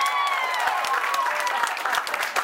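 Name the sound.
audience applause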